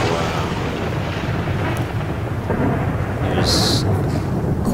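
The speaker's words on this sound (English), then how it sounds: "quite a storm going on here." A video-game thunderstorm in Kynesgrove, Skyrim: a dense, loud roar of rain and rumbling thunder fills the whole stretch with no talk, and a brief sharp crack comes near the end.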